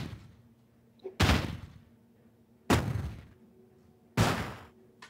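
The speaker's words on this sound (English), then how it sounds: "So the last layer of sound I have in this is the explosion of a grenade." Three separate booming grenade explosion blasts, bit-crushed for a sci-fi sound, each a sharp burst that decays over about a second, spaced evenly with quiet gaps between.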